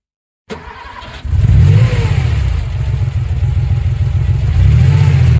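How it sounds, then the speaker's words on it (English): A car engine starts, then settles into a steady, loud idle with a brief rise in revs near the end. "Car."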